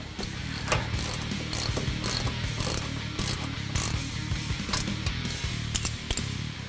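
Ratchet clicking steadily while tightening the nut on a sway bar end link of a 2009-2016 Ford F-150 during a leveling kit install, with rapid repeated pawl clicks in close, continuous bursts.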